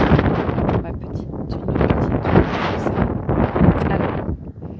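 Wind buffets an outdoor microphone in loud, rough gusts, almost continuous, while a person talks underneath.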